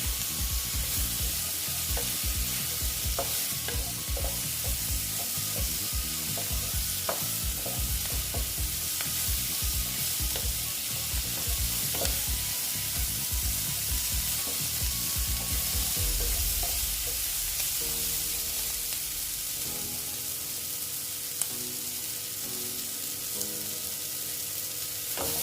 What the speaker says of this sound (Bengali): সেই জন্য এখন আমি উচ্ছেগুলো সব দিয়ে দিচ্ছি। দিয়ে এটার সঙ্গে ভালো মতন আবার কষিয়ে নিচ্ছি।